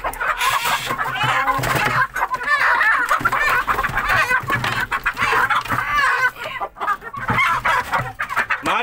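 Chickens clucking and squawking in agitation as a hen attacks a rooster, with dense, close, continuous calls and scuffling throughout.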